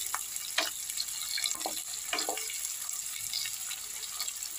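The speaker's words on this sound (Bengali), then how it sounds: "এগুলো একটুখানি ভেজে নিয়ে দাও। একটু লালচে লালচে করে নিই পেঁয়াজটা।" Onions frying in a pan until reddish, a steady soft sizzle with intermittent scraping and stirring knocks, fairly quiet and close, with no talking.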